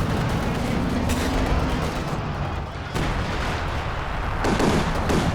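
Tank cannon fire in Company of Heroes 2, with a Panther and SU-85 trading shots: loud booming blasts amid dense, continuous battle noise, with sharp reports around the middle and near the end.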